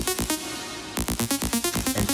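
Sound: synth lead sound in FL Studio

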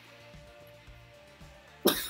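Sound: cough

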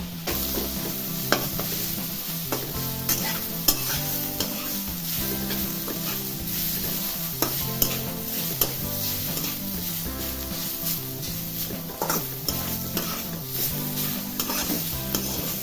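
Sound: potato pieces sautéing in oil with roasted chilies

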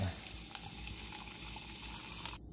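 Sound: SodaStream sparkling water poured over ice

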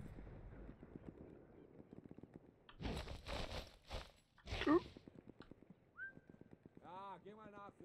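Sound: whistling in video game Sniper Elite 4

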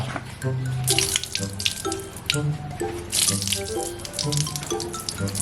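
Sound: running tap water rinsing polished motorcycle part

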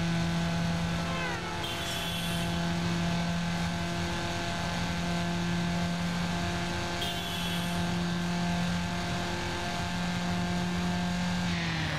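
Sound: car engine revving in Need For Speed Underground video game

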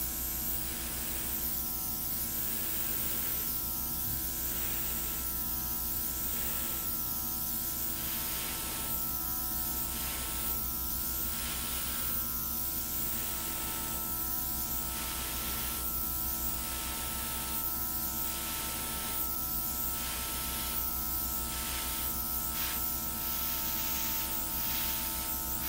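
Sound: airbrush spraying paint for a flower puddle pour

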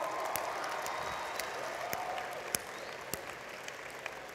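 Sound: audience hand clapping

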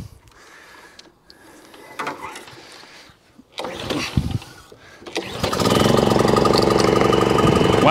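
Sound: petrol lawn mower engine starting and running

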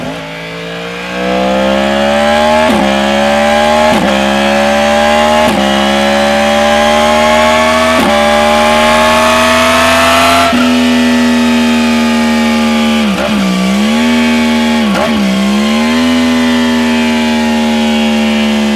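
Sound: crossplane crankshaft inline-four motorcycle exhaust

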